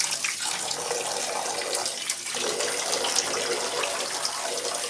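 Water runs steadily and close by while conditioner is rinsed out of hair, a continuous, even rushing spray from a tap or shower with no pauses and no talking.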